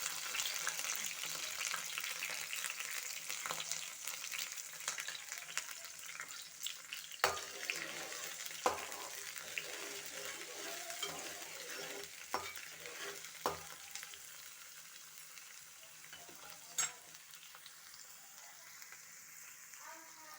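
Chopped onion, green chillies and curry leaves fry in hot oil with a continuous soft sizzle, punctuated by occasional clicks and scrapes of stirring, with no talk.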